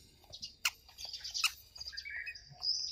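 Small birds chirp and tweet in a park, sharp bright calls close by in quick irregular bursts, one longer trilling call toward the end over quiet background.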